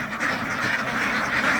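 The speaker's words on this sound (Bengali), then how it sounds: "দেখতে পাচ্ছেন হাঁস" A large flock of about 850 ducks quacks at a wetland beel in Chandina as the birds crowd into their shelter. The calls are dense and overlapping, loud and continuous, with no talk.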